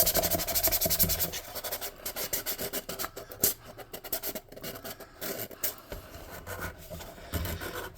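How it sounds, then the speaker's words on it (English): A sanding block roughs up the sturdy plastic of a dollar-store toy tower in close, uneven rasping strokes that keep up for several seconds, with no talking. "I'm going to try to hit the majority of my work with the sanding block"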